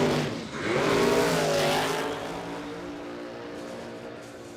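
An altered race car at Willowbank Raceway roars past during qualifying, a loud engine swell that peaks early then fades and settles into a steadier distant drone, with no voices.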